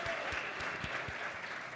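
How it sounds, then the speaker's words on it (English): Applause fills a legislative House chamber during a floor session, a soft, steady patter of many hands clapping with occasional louder claps, somewhat distant and without speech. "Let's give them a round of applause."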